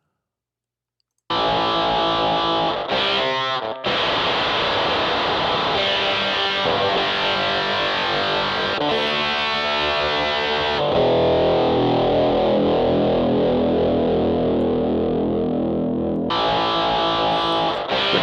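Harsh, snarling octave fuzz guitar in the style of a Dan Armstrong Green Ringer, with a buzzy upper-octave edge, played alone and loud, with a short break near the start.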